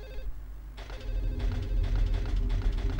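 A telephone rings in Silent Hill 4: The Room, a steady, repeating electronic ring pulsing over a low humming drone, moderately quiet and with no voices.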